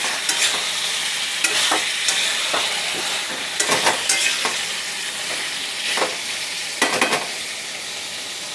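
Spices sauté in oil in a pan with a constant loud sizzle, broken by occasional scraping strokes of a spatula stirring the mixture, close up and without speech.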